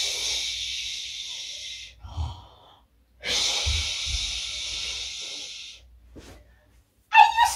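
During a kids' yoga session, children imitate snoring with two long, breathy, rasping snores over low snorty rumbles, separated by a pause, with a brief burst near the end.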